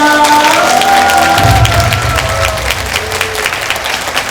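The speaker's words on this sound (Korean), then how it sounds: "여러분의 뜨거운 박수 부탁드리겠습니다" Loud, warm applause from volunteers at a closing ceremony for the Gumi Asian Athletics Championships, dense and continuous with a few cheers mixed in.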